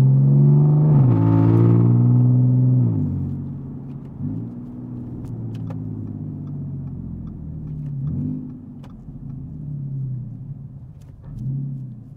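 A supercharged Audi A5 Sportback engine with straight-piped exhaust revs up loudly, then drops as the DSG dual-clutch gearbox shifts, followed by several smaller surges and dips in engine pitch; no speech.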